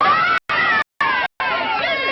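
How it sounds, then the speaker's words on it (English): Crowd noise swelling from a distance in a 1939 drama film set at the relief of Mafeking: a steady, loud roar of massed voices and cheering, broken by several short silent cuts. "Do you hear the cheering?"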